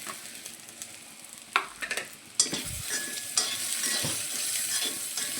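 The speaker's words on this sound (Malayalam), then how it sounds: "പഴം ഒന്ന് നമുക്ക് ഈ നെയ്യിൽ നന്നായിട്ടൊന്ന് വഴറ്റിയെടുക്കാം" Banana being sautéed in ghee in a pan: a continuous close sizzle with bursts of stirring scrapes, growing louder and denser partway through as the fruit hits the hot fat, with no voices.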